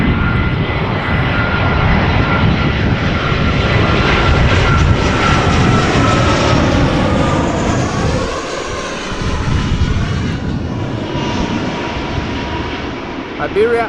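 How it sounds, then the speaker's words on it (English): A 21-year-old Iberia Express Airbus A320 arriving from Madrid touches down at Amsterdam Schiphol, with a loud, sustained jet engine roar and whine that swells and shifts in pitch as it passes close by. "Iberia Express A320 arriving from Madrid. Flight 3722 touching down after 2 hours and 7 minutes."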